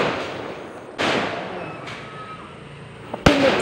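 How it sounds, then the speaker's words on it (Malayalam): Fireworks go off at a Shivaratri temple festival in Kerala, a few sharp bursts and crackling pops spaced apart, with one loud close bang near the end over a quiet background. "പിന്നെ വെടിക്കെട്ടാണ് അടുത്ത്."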